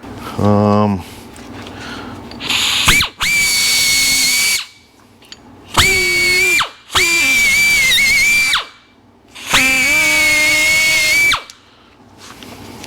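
A small power deburring tool whines loudly in repeated high-pitched bursts with short pauses between them, spinning up and winding down each time.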